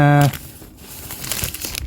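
A brief rustle of crinkling plastic, close by, following a short tonal blip at the start; soft irregular crackles with no speech.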